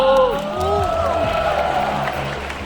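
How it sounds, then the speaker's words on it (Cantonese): An indoor fan-event audience at Joy Splash in Hong Kong gives scattered applause and cheers for a chosen fan, a moderate, steady crowd murmur with clapping beneath a host's amplified talking. "我哋俾啲掌聲鼓勵佢好唔好啊？"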